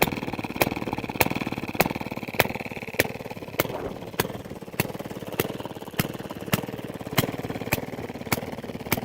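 A washing machine motor rigged as a small engine with no exhaust pipe runs steadily with a regular pulsing knock repeating about every half second, loud and close, with no other sounds.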